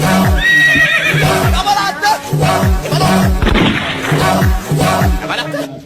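A horse whinnies loudly near the start, a shrill wavering neigh set against a song with steady deep drum thumps and singing voices.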